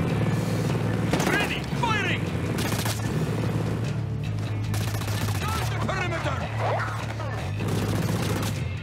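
Gunfire in the video game Ghost Recon Breakpoint during a co-op Conquest mode match, with loud bursts of shots and booming impacts under a steady mechanical drone while players talk over it.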